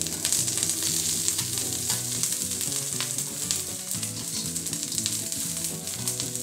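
Vegetables sizzling loudly in a hot pan as they are sautéed and turned over, a dense continuous crackle with faint clinks of the utensil, close and unbroken, no speech.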